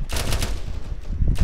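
Rapid automatic gunfire in Arma 3 as a squad pours shots into a building during a town assault, dense bursts of rounds with a heavy low thump, loud and close, pausing briefly midway before picking up again.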